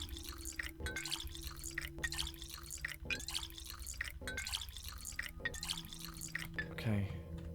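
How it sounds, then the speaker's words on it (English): Water being refilled in the video game Pathologic 2: steady dripping and trickling runs through the whole stretch, layered over a constant low game ambience, with a brief louder splash near the end. "Just gonna refill the water."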